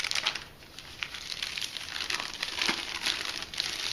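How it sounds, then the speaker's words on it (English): Plastic packaging of a 14 by 16 two-part expanding foam bag torn open by hand along its rip notch: close, continuous crinkling and crackling of thin plastic with sharp tearing bursts, no voices. "There is a small indication here for ripping, and so you can open them by hand."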